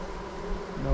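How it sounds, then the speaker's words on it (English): Honeybees at the hive entrance, carrying nectar inside, hum in a steady close buzz for a brief moment with no voices. "Some bees taking in nectar right there into the hive."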